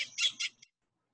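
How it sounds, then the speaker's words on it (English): A wading bird fishing in salt marsh water gives three quick, harsh squawks close by, then falls silent. "You can hear a bird fishing in the water here."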